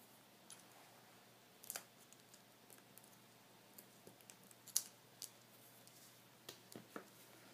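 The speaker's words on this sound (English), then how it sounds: "I have to trim off the bottom edge." Scissors trimming the bottom edge of an index card for a small tree swing craft: quiet, scattered crisp snips and clicks, several isolated sharp ticks spread irregularly over a faint, near-silent background.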